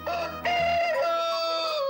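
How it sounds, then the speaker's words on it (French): A farm rooster crows loudly and close in one long drawn-out call, preceded by a few short clucks from fowl nearby. "le coq, pousse un troisième cri pour faire sortir les derniers paresseux"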